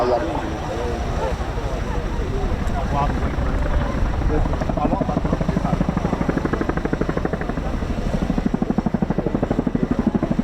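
A military helicopter at the RAF Cosford Air Show flies with a quad bike slung underneath as a load. Its rotor chop is steady and loud throughout, growing more pulsing toward the end, under continuous announcer commentary.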